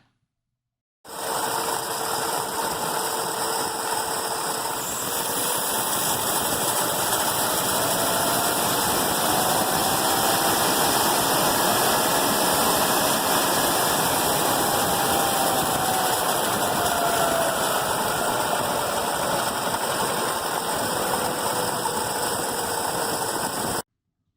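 An aircraft engine fitted with a Stromberg NA-S3 carburetor runs on its own with a loud, steady mechanical drone, rising slightly as it goes from idle to off idle and then holding constant.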